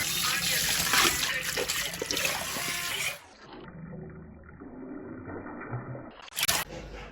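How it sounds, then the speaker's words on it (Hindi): Hot water runs from a tap while something is cleaned, a steady close rush for about three seconds before it cuts off to quieter room sound, with a short splashy burst near the end. "गर्म पानी से सफाई कर रही है।"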